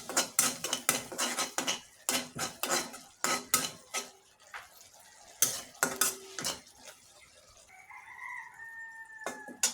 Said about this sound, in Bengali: আমি মশলাটা ভালোভাবে কষিয়ে নিই।